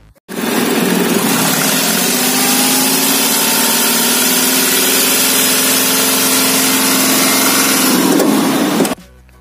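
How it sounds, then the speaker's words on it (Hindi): A 2017 Hyundai Xcent diesel car engine runs steadily for about nine seconds, a loud, even idle-like drone with no talk, starting and stopping abruptly. "अब हम आपको इसके इंजन का साउंड सुनाएंगे।"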